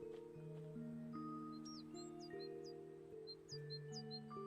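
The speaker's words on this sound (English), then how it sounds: "I can actually hear a bird close by" A bird chirping close by in the Heartopia video game, a few short high chirps over soft sustained game music, with no talk.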